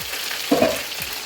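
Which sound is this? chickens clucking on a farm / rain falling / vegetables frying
vegetables frying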